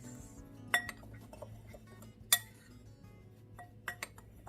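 Veggie nugget ingredients, including paprika, are stirred together in a bowl, with a few sharp clinks of utensil against the dish standing out over quiet, faint rubbing.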